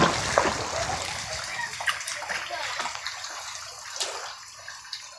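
A child bails floodwater out of a house swamped after Cyclone Dana in Bhadrak district, Odisha, with repeated close splashes and sloshing water filling the whole clip.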